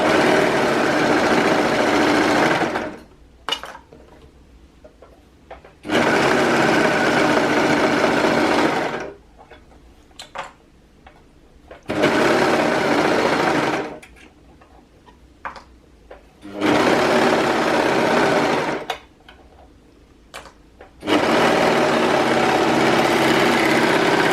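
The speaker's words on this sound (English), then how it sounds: "Let's use a 3/8 of an inch in our overlocker." An overlocker stitches a pocket lining and pocket bag together for sewn pants with a 3/8-inch seam, running in four loud, steady bursts separated by short quiet pauses.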